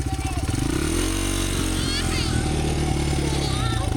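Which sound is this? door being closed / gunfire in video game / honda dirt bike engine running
honda dirt bike engine running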